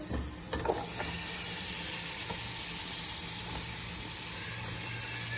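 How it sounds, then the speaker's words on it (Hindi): Chopped turnips fry in a spiced tomato masala, giving a steady, close sizzling hiss that runs without a break, with a few faint stirring clicks near the start. "शलजम डालने के बाद जो है इसको भी मैंने हल्का सा भून लिया"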